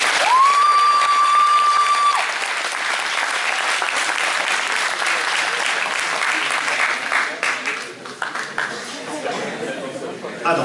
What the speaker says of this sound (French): Alors, on peut le remercier, on peut l'applaudir.